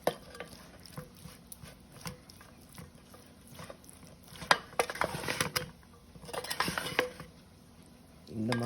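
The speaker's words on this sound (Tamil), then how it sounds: "ஆக்சுவலாக இந்த 2 கரண்டி வச்சுட்டு அதை" Schezwan noodles are tossed in a pan with two spoons, giving scattered metallic clinks and scraping with a louder flurry of mixing midway, close and moderate in level, alongside faint talk.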